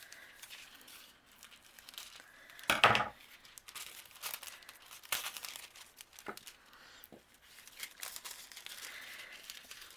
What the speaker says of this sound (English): the foil that I'm going to be using is a matte gold, and I'm just going to open this up